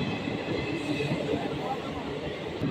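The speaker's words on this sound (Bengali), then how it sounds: "আমি যেই ট্রেনে ফিরবো ওই ট্রেন এখন স্টেশনে ঢুকছে।" A passenger train enters a station on the Katwa to Ahmedpur line, giving a steady close rumble of rolling wagons with a faint background murmur.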